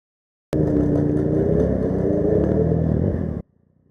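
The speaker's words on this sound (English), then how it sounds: "Just listen to the noise the chain makes as he pulls away." A motorcycle engine starts loud and close, rumbling steadily with a rattling edge from a worn chain for about three seconds as it pulls away, then cuts off abruptly.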